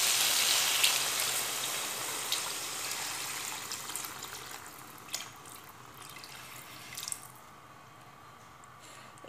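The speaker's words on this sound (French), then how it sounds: "Maintenant, je vais ajouter un demi-litre d'eau." Half a litre of water pours into a pan of cauliflower and minced meat tajine, a steady splashing rush that gradually fades, with a few small drips and clinks near the end.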